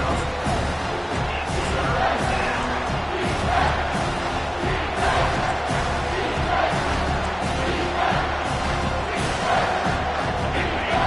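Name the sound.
football stadium crowd roaring on third down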